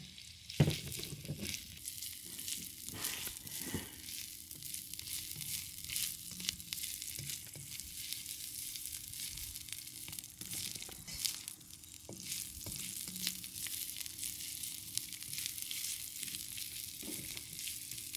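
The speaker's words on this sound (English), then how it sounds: "And I put the ginger in it." Ginger frying in a pan for a salmon dish with sa cha sauce, a steady close sizzle running throughout with occasional stirring scrapes and crackles, no talking.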